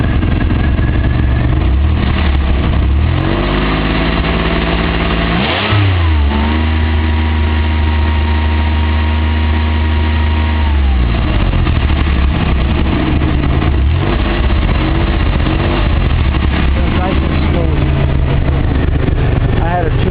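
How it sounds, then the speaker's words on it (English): A Lamborghini replica kit car's engine runs loud and close, climbing through a long rev, holding high, then dropping back to a rough idle before rising again. "Alright, I'm gonna rev her up for you."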